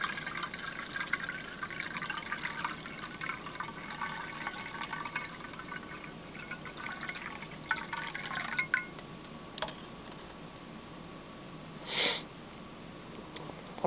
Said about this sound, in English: And then we're going to put our hot water in.